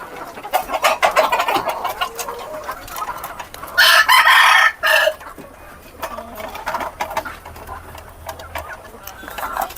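Caged desi chickens cluck repeatedly up close, and a loud rooster crow rises partway through, while a mechanical whirring and clattering runs intermittently underneath.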